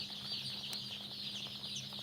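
Chickens cluck faintly at a live poultry sale of chicks, among them tiger, sonali, colour bird, broiler and layer breeds, in a brief stretch over constant high-pitched background hiss and a low hum.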